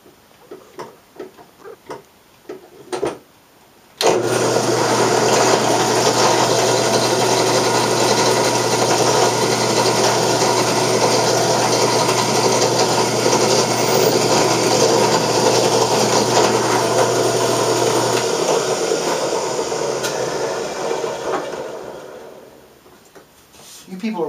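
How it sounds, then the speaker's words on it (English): Drill bit boring a 1/16 inch hole in metal while making a cannon, a steady continuous grinding whir that runs loud for about fourteen seconds and then winds down. "Now I'm putting an 1/8 inch hole in the other one. That was the 1/16 inch hole."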